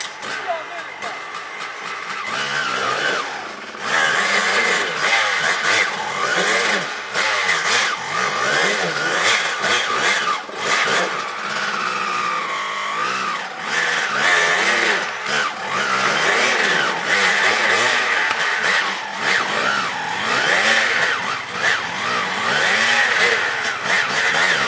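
A 300 motorbike engine revs under throttle in a long, loud, rising and falling drone, with people talking over it throughout.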